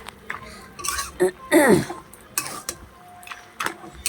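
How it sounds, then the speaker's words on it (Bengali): Mixed vegetable curry with lentil dumplings is stirred in a pan: scattered clanks and scrapes of a spoon against metal, close by, with a brief vocal sound in the middle. "এবার বড়িগুলো দিয়ে ভালো করে নাড়তে হবে"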